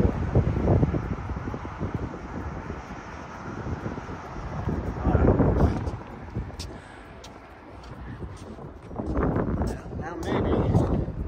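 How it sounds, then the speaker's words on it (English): Heavy wind buffets the microphone on an elevated outdoor spot overlooking downtown Nashville, rumbling in strong gusts that swell and fade across the whole stretch, with a faint airplane on approach in the distance. "It's a little windy up here, so if your guys are getting winded out, I apologize."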